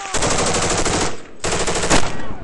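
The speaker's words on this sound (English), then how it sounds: "The amount of machine gun fire we were taking and AK-47 fire" Machine gun and AK-47 fire during combat in Afghanistan, loud sustained bursts of rapid automatic gunfire with a brief gap between two long volleys, harsh and close.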